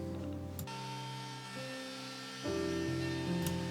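A router cutting chamfer edges on cedar slats, a close, steady high-pitched whine with tonal shifts as the cut loads and eases, a few brief knocks, and no voices.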